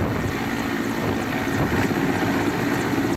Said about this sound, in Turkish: 5 yangın helikopteri Isparta havaalanına indi.